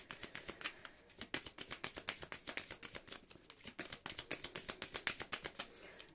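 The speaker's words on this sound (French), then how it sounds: "Allez, on va couper le jeu." Tarot cards being cut and shuffled by hand, a fast rhythmic run of crisp papery flicks and taps, close and quiet, repeated steadily for several seconds.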